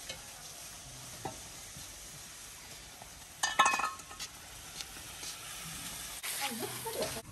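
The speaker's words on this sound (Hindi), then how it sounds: "हमने गोश्त को तड़का लगा लिया है" Chicken meat from a two-year-old bird sizzles and hisses while being stirred in a pot during tempering, with scraping stirs and a few clinks, fairly quiet with brief louder bursts.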